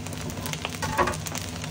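Egg fried rice sizzling and frying in a hot pan as it is stirred, a steady close crackle with a few louder scraping stirs about midway.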